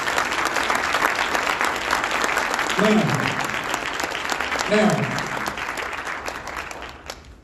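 Crowd at Atlantic City's 2021 State of the City address applauding city employees, a sustained, loud burst of many hands clapping, with a voice briefly speaking over it and the applause tapering at the end.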